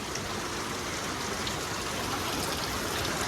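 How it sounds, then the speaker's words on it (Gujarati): Steady rain falling outdoors, a dense, even patter with trickling water, continuous and moderately loud throughout with no voices. "એકદમ મસ્તી બહાર વરસાદ પડે"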